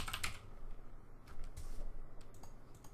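Password being typed on a computer keyboard during a Windows Server 2016 setup in VirtualBox, a steady patter of close, fairly quiet keystrokes running throughout with no talking.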